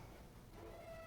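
A house cat meows once, faint and close, against a steady background hum with no talk.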